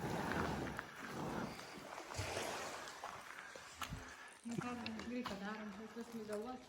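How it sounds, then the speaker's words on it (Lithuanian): A small boat approaches across the water in Thailand, its steady engine and water wash running under near, continuous conversation, with wind buffeting the microphone. "Atplaukia su valtele."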